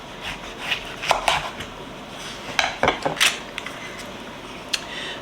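A knife slicing into homemade summer sausage on a board, with a few brief scraping and tapping cuts close by, irregular and moderately loud, with quiet gaps between strokes.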